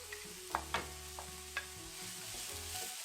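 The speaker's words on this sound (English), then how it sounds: "So I'm going to saute all these" Shallots, red onion, white onion and spring onions sauté in a pan for a fish pie, a quiet steady sizzle with a few light spoon taps and scrapes, no talk.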